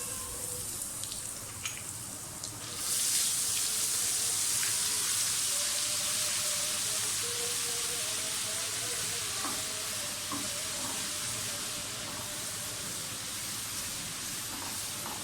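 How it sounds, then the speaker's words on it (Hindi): Steady sizzling of whole spices sautéing in a hot pan for mutton korma, starting quietly and jumping louder after a few seconds, with occasional light stirring scrapes. "सबसे पहले इसमें साबुत मसाले डाल दें, थोड़ा सा इनको सौते करें"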